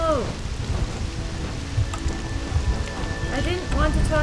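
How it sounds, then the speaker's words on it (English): Rain and a thunderstorm in the video game Black Desert Online, with a steady wash of rainfall and low rumbles. Game music with tonal swells plays over it. "Man, there's a storm and everything."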